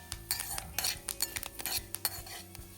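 Chana dal, urad dal, coriander seeds, cumin and curry leaves are stirred in a pan, giving quiet, repeated scraping and clinking of a spoon against metal with a faint sizzle underneath.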